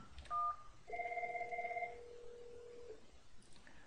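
A desk IP phone on a Cisco call manager system places a call: a few quick dialing tones, then a two-tone electronic ring that repeats, fairly faint and alone.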